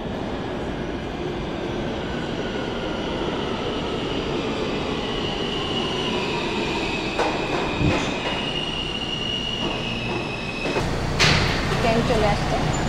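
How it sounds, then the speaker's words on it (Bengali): Subway train pulling into a New York City station, a steady rumble of approaching cars with brief wheel squeals and a sharp screech near the end, heard at platform distance under faint background voices. "ট্রেন চলে আসছে।"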